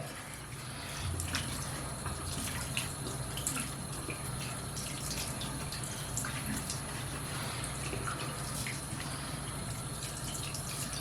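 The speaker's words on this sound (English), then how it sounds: "This lather's so good, you just gotta keep rinsing, right?" Steady running water from a tap while lather is rinsed out of a beard, a continuous close splash with faint irregular spatters and a low background hum throughout, no talk.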